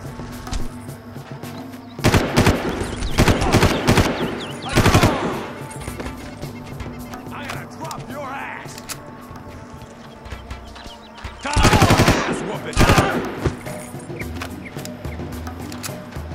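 Machine gun fire from the Far Cry video game comes in two loud sustained bursts, each a few seconds long and separated by a quieter stretch of background game ambience.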